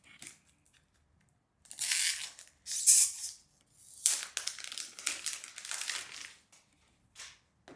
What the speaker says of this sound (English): let's cut through the protective wrap